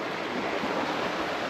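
Small mountain stream flowing at Kilimanjaro, Tanzania, a close, steady rushing wash of water with no pauses or voices across the short stretch.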